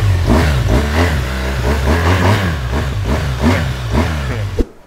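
A BMW R1200 motorcycle engine revs repeatedly in rising and falling surges, loud and close, with a deep rumbling idle underneath, then cuts off abruptly at the end.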